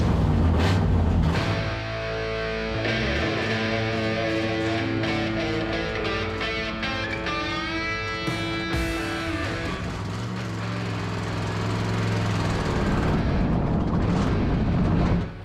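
A vintage race car engine fires up at Pacific Raceways during a historic racing event, a loud, close roar that revs and bursts, then settles into a rough, throbbing idle.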